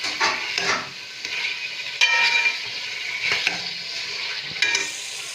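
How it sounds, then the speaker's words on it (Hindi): Potatoes frying in a pan for aloo kebabs, a bright steady sizzle with bursts of stirring and a few sharp scrapes and clinks of a utensil against the pan, close and clear with no talking. "यहाँ पे मैंने आलू को 2 से 3 मिनट के लिए अच्छे से भून लिया"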